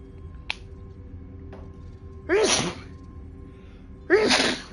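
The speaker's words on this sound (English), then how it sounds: "sneezes" Two loud, explosive sneezes a couple of seconds apart, each a sharp breathy burst, heard close up over a low steady background hum.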